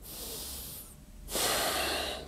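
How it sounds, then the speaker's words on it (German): A person demonstrates chest breathing: a long audible nasal inhale, a brief pause, then a louder, rushing breath close to the mic, with no talk. "Also du atmest in deine Brust."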